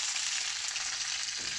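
Mustard seeds and curry leaves frying in hot coconut oil, a loud continuous hiss and crackle close by, with a brief low thud near the end, no speech.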